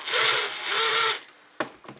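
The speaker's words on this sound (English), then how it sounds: "I'm going to drill this hole right here in the middle." Small drill bores a hole into the plastic center of a slim Nvidia Quadro 4000 GPU fan, two steady high whirring bursts of about half a second each, then a few faint clicks and scrapes, close and loud with no talk.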